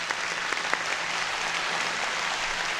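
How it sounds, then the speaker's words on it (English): Audience applause fills a debate hall for Mr. Ham during a Bill Nye vs Ken Ham event, a steady wash of clapping that holds at an even level for nearly three seconds. "We can applaud Mr. Ham."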